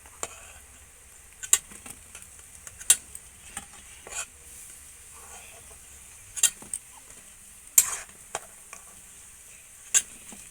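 A low, steady sizzle of chicken cutlets frying slowly on low heat runs under scattered sharp clicks and scrapes from a utensil in the pan, quiet and close, with no voices.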